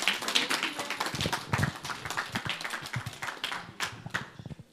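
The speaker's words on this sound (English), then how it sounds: "Let's give a round of applause for the beautiful, doctor, for this amazing presentation" An audience claps after a healthcare presentation, a scattered, uneven patter of individual handclaps rather than a thick wave of applause, fairly close and moderately quiet.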